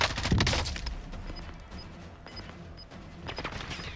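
Gunfire in a battle royale video game: a burst of loud shots up front, then scattered fainter reports and a short metallic tone repeating in the background, with more shots picking up near the end.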